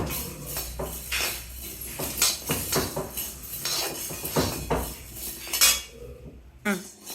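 Chana dal being dry roasted with moringa powder in a pan, a busy stream of loud metallic scraping and clinking from a spatula against the pan, irregular and close, with no voices.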